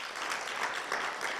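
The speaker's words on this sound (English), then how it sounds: "Let's all clap for the President." An audience at a Stanford business conference claps for the president, a steady wash of many hands applauding at moderate distance, continuous and even throughout with no talking.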